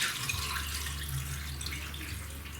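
Beef broth poured into a slow cooker as a steady liquid stream, close and continuous for a couple of seconds.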